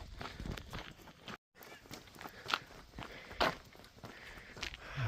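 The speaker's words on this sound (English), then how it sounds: "Ah, beautiful horse." Horse hooves clip-clopping along a Camino Frances trail in spring, a near, irregular run of hoof strikes over outdoor ambience.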